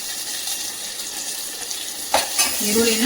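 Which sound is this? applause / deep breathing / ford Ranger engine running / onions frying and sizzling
onions frying and sizzling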